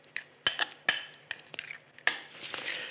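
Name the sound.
mixing goat cheese and beetroot with olive oil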